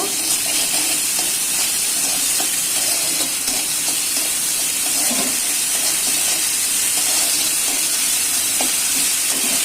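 Cabbage stirred in a hot pan with ginger and coriander paste for a Bengali cabbage curry: a steady, close, loud sizzle and hiss runs throughout, with faint scraping and clicking of the utensil and no voices.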